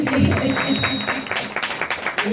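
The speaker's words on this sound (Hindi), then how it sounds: "तालियां" An audience at a Hindi satsang breaks into applause, with scattered claps building in the second half over a murmur of voices.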